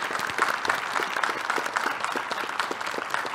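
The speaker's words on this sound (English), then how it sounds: "I'd like to give a round of applause to the great team" A round of applause for a town hall staff team fills the room, dense steady clapping from a gathered audience with no voices over it.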